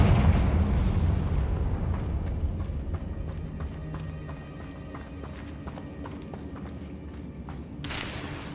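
Confringo blasting spell from Hogwarts Legacy, a heavy booming explosion at the start that rumbles and fades over several seconds, followed by scattered crackling debris and a short sharp burst near the end.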